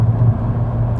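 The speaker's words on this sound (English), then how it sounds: "I have to yell because my car is loud" A loud car engine runs close by, a heavy low rumble that stays steady for about a second, with no speech over it.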